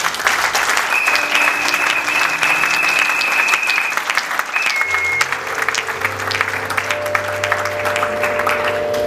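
A congregation at a celebration in honour of Jesus Christ breaks into loud, sustained applause with some cheering, joined partway through by steady held musical tones.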